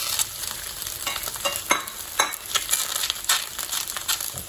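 Ingredients sizzling and crackling as they toast in a hot, dry paella pan over high heat for black rice with cuttlefish and mussels, with quiet popping bursts and scraping stirs up close.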